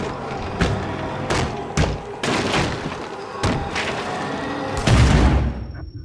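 Heavy gunshots and booming thuds in Little Nightmares 2 land as a series of loud, evenly spaced blasts over a dense rumbling background, the last and biggest one trailing off into quiet.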